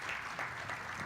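Brief burst of audience applause at a business innovation community kick-off event, a steady, dense patter of many hands heard for about a second, fairly faint.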